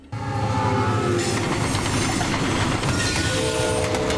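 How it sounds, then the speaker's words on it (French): Freight trains running on rails, a loud continuous rumble and clatter of wheels with a horn-like tone, sustained and near from start to finish. "2 trains de marchandises sont sur le point d'entrer en collision"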